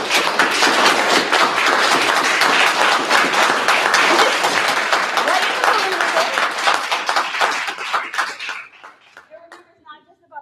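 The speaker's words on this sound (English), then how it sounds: "So I just wanted you guys to give them a round of applause" A round of applause fills a Mount Holly fire commissioner meeting, dense, close clapping from the room sustained for about eight seconds before thinning out into a few scattered claps and fading.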